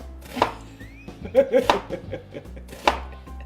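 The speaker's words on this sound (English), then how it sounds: "Now I need to chop up some onion." An onion is chopped with a knife on a board at home, with a few crisp, separate knife strikes close by.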